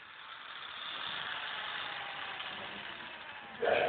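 A small DC motor driven by an astable circuit whines steadily, its pitch rising and falling as the speed changes, and ends in a louder burst.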